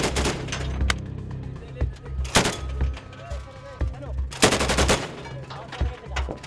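Peshmerga fighters on a firing line near Mosul shoot rifles and machine guns, producing loud, sharp bursts and single cracks in irregular clusters. Voices and shouting carry beneath the gunfire.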